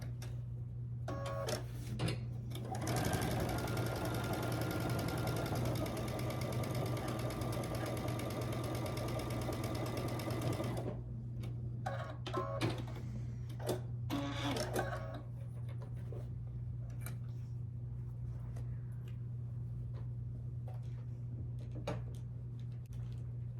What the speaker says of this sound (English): And stitch down this side.